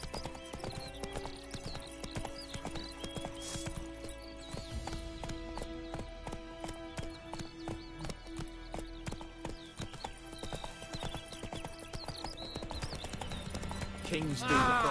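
Hooves clip-clop steadily as Roach, the horse in The Witcher game, trots along, close and rhythmic, with a brief whinny near the end and game voices talking over it.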